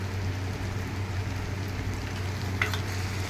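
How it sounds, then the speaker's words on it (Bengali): Spiced masala frying in a pan with chilli powder, a steady close sizzle running throughout with a brief louder crackle near the end. "মশলাটা আমার মোটামুটি কষানো হয়ে গেছে"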